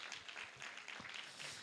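A church congregation at a Korean afternoon worship service gives a round of encouraging applause, heard as a faint, steady wash of many hands clapping from a distance throughout.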